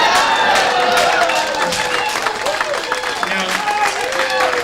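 A comedy club audience cheers and applauds loudly at a stand-up comedy show, a dense sustained wash of clapping and voices that stays strong to the end.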